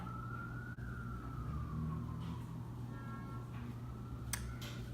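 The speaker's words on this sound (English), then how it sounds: "There is an ambulance." An ambulance siren drifts past at a distance, its wailing tone sliding slowly up and down over a low traffic rumble, with a few sharp clicks nearby.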